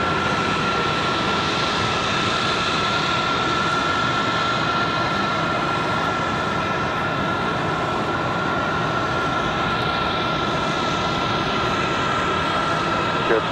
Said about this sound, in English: Here comes our FedEx 767. Enjoy the arrival of this.